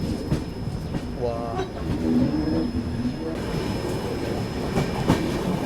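A Duronto Express rolls along the Konkan Railway in monsoon rain, its coaches giving a continuous rumble and faint clatter, with a brief voice heard early on.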